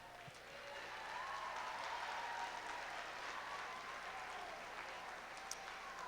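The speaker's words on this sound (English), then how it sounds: "Let's have a round of applause for the people who are here from the class of 1960 and 61" Faint, distant applause from an audience at a high school's 50th anniversary gathering, a soft even patter of clapping that rises and holds for several seconds.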